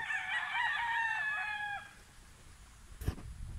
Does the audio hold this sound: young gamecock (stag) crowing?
yes